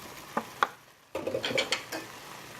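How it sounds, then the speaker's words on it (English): Cherry tomatoes stirred in a cooking pan, giving a few sharp utensil scrapes and clacks against the pan, then a busier run of stirring knocks and faint sizzle, close and fairly quiet. "And just kind of stir those around."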